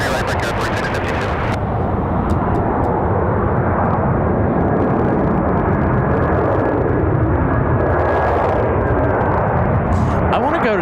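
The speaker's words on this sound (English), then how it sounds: "Gonna be a nice smooth touchdown for United from Houston." A United airliner arriving from Houston touches down at Raleigh-Durham International Airport, a loud, sustained jet roar with broadband rumble that holds steady through the whole span, with brief talk near the start.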